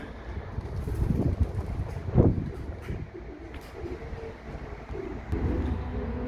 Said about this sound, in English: Quite a few of them are starting to fly now, which is really nice.